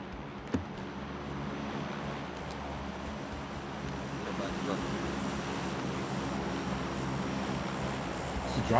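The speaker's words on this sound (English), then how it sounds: "Drop plane?" The care package drop plane from PUBG drones overhead on Sanhok, a steady low engine rumble that swells slightly as it passes, heard faintly under game ambience.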